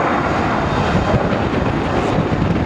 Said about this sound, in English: So as they form, Typhoon in this 4G pull-up to quarter climb.